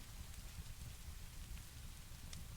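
Rain falls in a steady, soft, continuous patter. It stays at an even hush throughout, with no voices.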